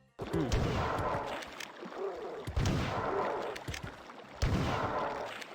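Shotgun blasts from the Marathon 2: Durandal video game, three loud booming shots spaced about two seconds apart, each with a reverberant tail, heard alone without talk.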